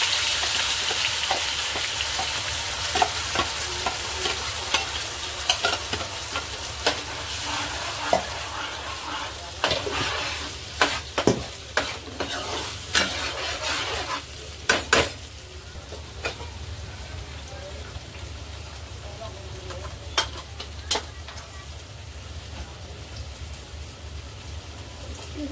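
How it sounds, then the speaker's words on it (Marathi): Malvani masala fries in hot oil with a steady broadband sizzle, while a spoon scrapes and stirs through it in irregular clicks and sharper knocks, close and continuous throughout. "मसाला चांगला तेल सुटेपर्यंत आपण या तेलामध्ये फ्राय करून घ्यायचा आहे"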